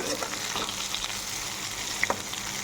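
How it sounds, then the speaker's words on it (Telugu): Bitter gourd pieces frying in plenty of oil in a pan, a dense close sizzle with a few light stirring knocks and sharp pops, no voices heard. "చూడండి, ఈ విధంగా వేయించుకుంటున్నా. ఇందులో ఆయిల్ మోస్ట్ ఇంపార్టెంట్ అండి."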